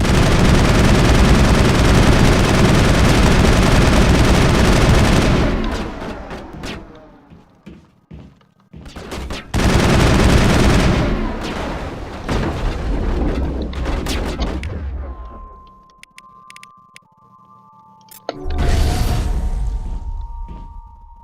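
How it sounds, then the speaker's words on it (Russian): Loud bursts of gunfire from enemies shooting through a wall in the video game Mass Effect, heavy rattling volleys with thuds and booms, separated by brief lulls of quieter game sound. "Стоят, сквозь стену стреляют."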